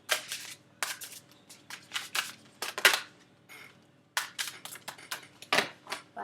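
Tarot card deck being shuffled by hand in repeated crisp riffling bursts with short pauses between, close and fairly quiet, no talking.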